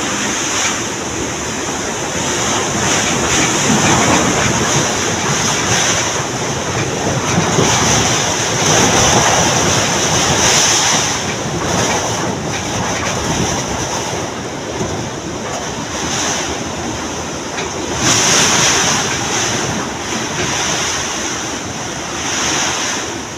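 Strong wind roars steadily against the microphone, with crashing surf churning beneath it and gusts swelling and easing throughout.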